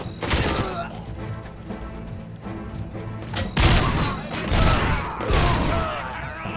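Gunfire from RoboCop's sidearm in the game RoboCop: Rogue City, with sharp repeated shots that cluster in bursts near 3.5 to 5 seconds over game music and ambience. A voice talks faintly underneath.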